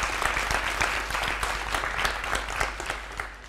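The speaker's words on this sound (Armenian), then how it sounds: "Եվ ծափահարություններ։" Studio audience applauding on an Armenian television quiz show, a steady dense wash of clapping that holds at an even level throughout, with no voices over it.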